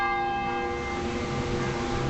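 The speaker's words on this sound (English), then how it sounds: "The bell at the First Presbyterian Church tolled 49 times in memory of those killed." Bell of the First Presbyterian Church in Springfield tolling for victims of the Pulse nightclub shooting: one resonant, metallic strike whose humming overtones ring out and slowly decay, heard alone.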